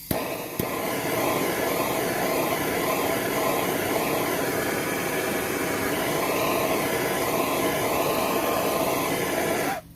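A Thermos mil-spec stove generator being preheated gives a loud, steady roaring hiss that holds evenly for about ten seconds and then cuts off sharply, with no one speaking.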